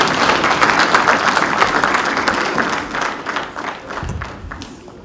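Pan African Parliament members applauding His Excellency Thabo Mbeki after his address in the chamber, a dense, loud wash of clapping that fades gradually toward the end.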